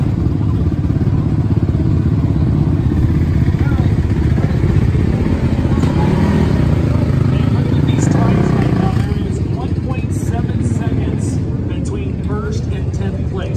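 A custom dirt bike fitted with a KTM 1290 engine and custom exhaust idles with a deep, loud rumble close by, while people talk over it.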